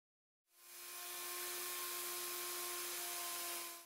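Woodworking router on a Leigh D Series jig with an M2 multiple mortise and tenon attachment, cutting tenons along guide fingers, starts abruptly with a steady high whine and a buzzing hiss for about three seconds, then cuts off.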